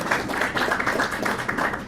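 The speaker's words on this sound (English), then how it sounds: "Let's give him a round of applause." An audience at a community town hall applauds the mayor of Sterling Heights with a steady burst of clapping that swells briefly near the end.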